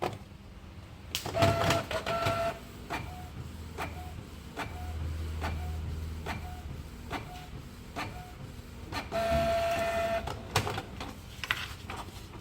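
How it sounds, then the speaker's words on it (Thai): A Canon inkjet printer runs a print head test, giving repeated short mechanical clicks and whirring carriage passes in a regular rhythm, with a louder feed burst partway through, close and clear without speech. "กดที่ปุ่ม start ครับ เพื่อทำการทดสอบหัวพิมพ์ครับ"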